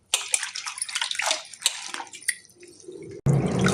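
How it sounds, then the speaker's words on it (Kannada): Fresh palak (spinach) leaves are rinsed by hand in a vessel of water, making close splashing, sloshing and dripping sounds in irregular bursts, followed by a short pause and then a louder pour. "ಪಾಲಕ್ ಸೊಪ್ಪು, ನೀರು ಹಾಕಿ 4-5 ಸತಿ ತೊಳೆಯಬೇಕು"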